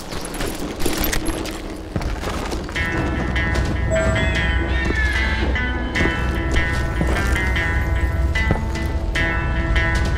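In a video game, a train about to fall rumbles and groans steadily with metallic creaks and scraping, with several sharp clattering impacts near the start.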